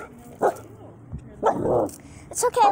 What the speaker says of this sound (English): She's a puppy.